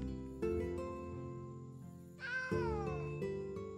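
A cat meows in the video game Travellers Rest, a single clear drawn-out meow with a falling tone, heard over steady game music with no speech.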